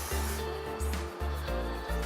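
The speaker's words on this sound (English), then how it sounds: "You're supposed to lift the parts of your hair and just spray it on your scalp directly." Dove dry shampoo is sprayed close up onto the scalp in several short, quiet hissing bursts with brief pauses between them.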